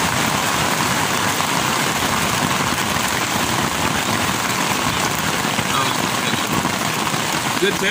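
Heavy rain drums on a tent during a tornado warning while camping, a dense, steady roar with no break for the whole stretch, over a faint low rumble.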